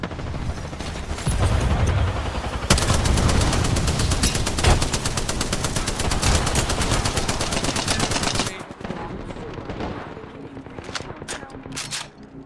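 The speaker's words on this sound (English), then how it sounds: "Opening fire." Rapid automatic gunfire in Apex Legends, loud and sustained bursts for most of the stretch, then trailing off into scattered quieter shots and game effects.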